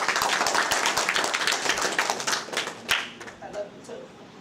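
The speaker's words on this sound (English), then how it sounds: "Give them a good clap." Audience clapping after a call to give the performers a good clap, a dense patter of hand claps that thins out toward the end, with voices talking over it.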